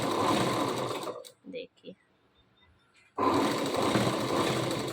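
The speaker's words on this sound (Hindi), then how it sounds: "आधा आधा इंच पे सिलाई लगाते हुए जाना है और कपड़े को सही से रखते हुए जाना है।" A sewing machine stitches kurti fabric, running loud and close in a fast steady whir, pausing for a second while a voice speaks briefly, then starting up again.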